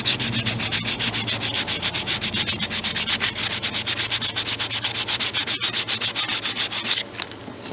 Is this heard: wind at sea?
no